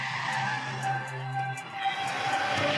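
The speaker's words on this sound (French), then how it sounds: "ils regardent le passage des véhicules en compétition" Rally cars in competition tear past on a narrow mountain road, a brief burst of tyre skid and engine roar rising and fading as spectators watch along the roadside.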